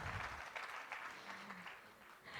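Audience applause with some cheering after a speech about reducing traffic jams in a city, a broad steady wash of clapping holding at moderate level throughout.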